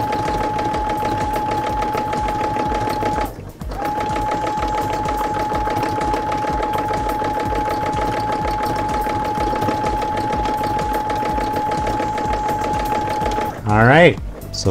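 A sewing machine stitches free motion embroidery at a steady high speed, a loud continuous mechanical whir with a constant tone that stops briefly once and then resumes until a short pause near the end.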